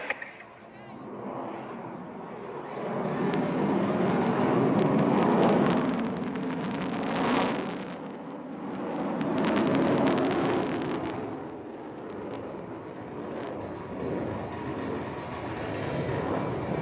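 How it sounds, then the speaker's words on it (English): A Su-30 MKI fighter jet performs at an Indian Air Force aerial display over Marina Beach in Chennai, its broad roar swelling and fading in long waves, with a voice talking over it. "வானில் நின்றபடி கீழே இறங்குவது Su-30 MKI"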